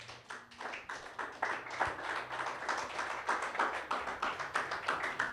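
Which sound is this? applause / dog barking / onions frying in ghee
applause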